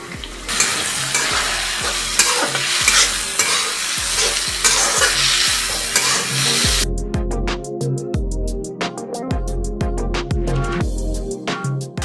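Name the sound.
soaked lentils frying and stirring in pan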